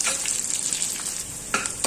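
Hot oil sizzles steadily and crackles briefly as a spice tempering for sambar is stirred, close and fairly loud, with no talking.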